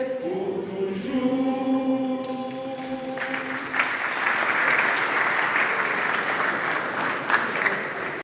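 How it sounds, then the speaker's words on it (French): Sustained tones of a sung anthem give way after about three seconds to dense audience applause at a ceremony for the fathers' entrance, the clapping continuing steadily and fairly loud to the end. "veuillez applaudir quand même pour l'entrée des papas"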